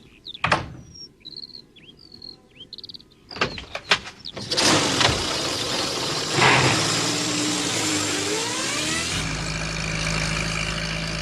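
Postman Pat's van starts up and drives off in a 1981 stop-motion cartoon, birdsong and clunks giving way to a loud, steady engine drone that rises in pitch as it speeds away.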